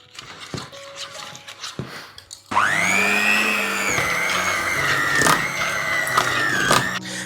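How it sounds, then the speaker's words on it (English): Cream is whisked with an electric mixer, starting abruptly after some quiet handling noises and then whirring loudly and steadily with a rising motor pitch, close up and without talk. "So I'm going to whisk it up."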